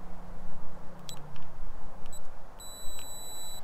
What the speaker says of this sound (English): push the 8 and then push the lock button, and you should hear a long beep